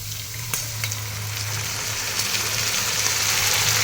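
Tomato paste sizzles loudly and continuously as it goes into hot oil in a home kitchen, a dense frying hiss with a low hum beneath it.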